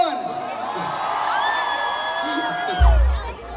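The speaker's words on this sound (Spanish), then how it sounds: "Un grito para mi compa, Brandon" Concert crowd at a live show in Watsonville, California, shouting and cheering in a sustained roar, with a sudden loud swell near the end.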